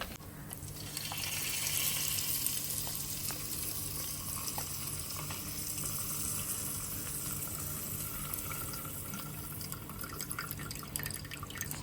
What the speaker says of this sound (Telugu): రవ్వ లడ్డు తయారు చేసుకోవడం కోసం అమ్మ అయితే ఇంట్లో నెయ్యి అయితే ప్రిపేర్ చేస్తున్నారనమాట